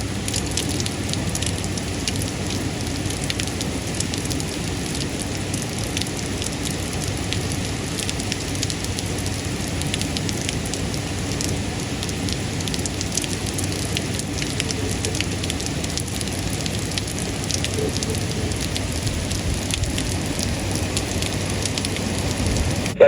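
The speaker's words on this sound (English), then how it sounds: "Supposed to get like 5 hours of this type of rain." Heavy rain from the remnants of Hurricane Ida pours over New York City, a steady dense hiss with no letup for the whole stretch.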